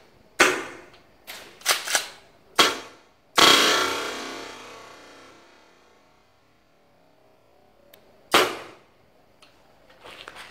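Secutor Velites airsoft shotgun firing at a 40-metre range, outdoors. Several sharp, loud pops come in a quick cluster, one with a longer decaying rattle, then a pause and another single shot.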